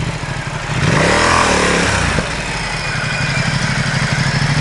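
A Ducati XDiavel S motorcycle with stock exhaust runs close by, its engine swelling into a brief rev then settling back to a steady throbbing idle, with wind noise over the rider.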